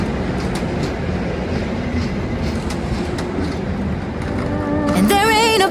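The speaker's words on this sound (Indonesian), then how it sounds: "Kereta ekonomi murah Sri Tanjung dari Lempuyangan." Sri Tanjung economy passenger train rolling along in a steady, loud rumble that stays constant throughout, with music rising over it at the very end.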